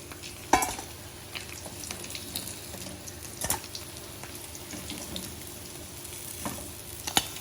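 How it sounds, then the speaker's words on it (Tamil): Emperor fish (vela meen) frying in a pan, with a steady close oil sizzle broken by a few sharp pops and clinks, and no talking. "இப்போ மீன் நல்லா ஃப்ரை ஆகிடுச்சு"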